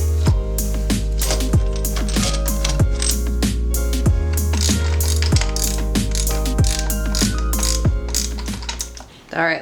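Rapid ratchet clicking from a hand tool tightening screws on a small engine's carburetor, steady repeated pawl ticks with a low hum underneath, close and continuous throughout.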